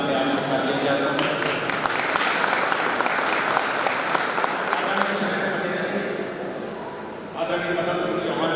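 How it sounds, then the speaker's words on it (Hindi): Sustained crowd applause at a public rally and march event in Pithampur, loud and continuous for about seven seconds, dipping briefly before a short renewed burst of clapping. "आपसे तालियां चाहता हूँ"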